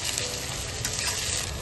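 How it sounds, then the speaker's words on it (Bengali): Sliced onions frying in hot oil in a pan for Dada Boudi biryani, a dense, steady close-up sizzle with no voices. "এখন আমি ভাজাটা করছি, পেঁয়াজ ভাজাটা একটু ব্রাউন হয়ে গেলে"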